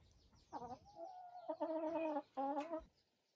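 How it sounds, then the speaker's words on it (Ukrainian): Hens clucking close by, a few drawn-out, throaty calls in quick succession with short pauses between them, with no talking. "От як бачите, це всі наші кури."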